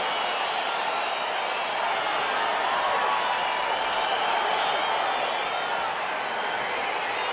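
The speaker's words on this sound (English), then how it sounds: "crowd getting excited as this fight gets underway" Steady roar of an excited arena crowd at a UFC bout in the video game UFC 4, Michael Chandler versus Conor McGregor, a broad continuous wash of cheering that holds evenly throughout without any clear break or talk.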